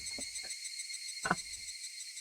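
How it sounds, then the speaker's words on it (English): Cicadas in the visual novel Higurashi When They Cry drone with a steady high-pitched buzzing chorus that runs continuously and evenly, with a few brief low knocks and thuds beneath it. "cicadas are back."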